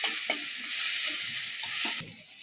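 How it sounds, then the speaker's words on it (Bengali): Grated, well-drained potato fries in a wok with nigella seeds, giving a loud, continuous close-up sizzle with occasional stirring clatters and scrapes throughout. "সেই আলুটা কড়াইতে দিয়ে দিলাম।"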